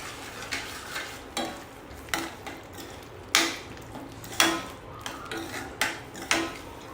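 Grated paneer being stirred and mixed into a gravy in a pan, with a steady run of spoon scrapes and clinks against the metal and a faint sizzle underneath.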